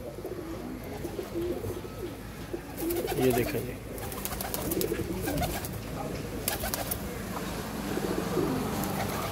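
Red Eyes pigeons coo softly in a loft, low repeated calls overlapping at close range beneath faint background noise, with someone speaking briefly.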